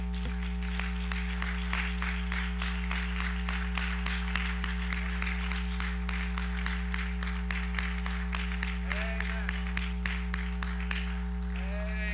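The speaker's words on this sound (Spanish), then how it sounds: "Demos un aplauso al Señor en esta." Church congregation clapping in a steady, fairly quiet patter for several seconds, with a constant low hum underneath and faint voices in the background.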